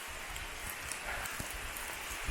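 Rain falls on the dense forest canopy along a Louisiana hiking trail, a soft, even hiss with scattered faint drips throughout.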